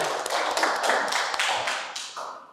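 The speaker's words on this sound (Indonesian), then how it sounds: "Oke, tepuk tangan." A classroom of students claps for a top-ranked classmate at a community college, a fast, uneven patter of many hands close by that carries on steadily without talk and thins toward the end.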